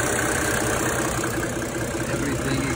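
A 1999 Mercedes-Benz E300 turbodiesel inline-six idles with a steady, close diesel clatter and low rumble, unbroken and fairly loud, with no voices over it.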